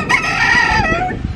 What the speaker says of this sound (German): Die Hähne hier, das sind übrigens Kampfhähne, muss Abstand halten.